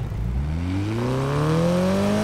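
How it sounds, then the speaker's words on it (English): A car engine in the racing game Need for Speed Heat revs up smoothly, its rising whine climbing steadily in pitch and staying loud and close throughout with no talk. "I love the sound of the engine"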